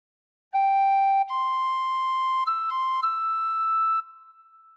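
Tin whistle playing the opening phrase of Amazing Grace: a few clear, sustained pure notes stepping upward, close and solo, ending in a short fading tail.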